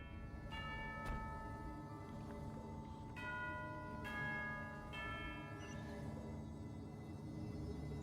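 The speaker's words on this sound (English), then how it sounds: "You hear the sound of a bell." A bell tolls in the Genshin Impact video game, several clear resonant strikes spaced a second or two apart, each ringing out and slowly decaying, moderately faint with no talk over it.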